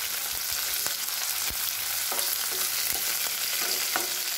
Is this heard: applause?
no